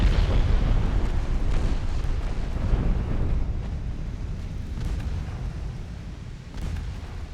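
Battleship main guns fire in a naval warfare game, heavy booming blasts with a long rumbling roll that stays loud and gradually settles, with a few further thuds and no talk.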